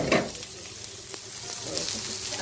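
Onions fry in a pan for a mushroom burger, giving a steady close sizzling hiss broken by a few soft stirring scrapes, with no talk over it.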